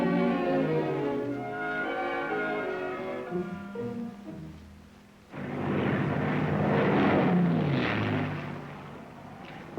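An F-51 American long-range fighter's propeller engine drones with strong harmonic tones, then a rougher, louder roar swells in partway through, as if more aircraft pass close.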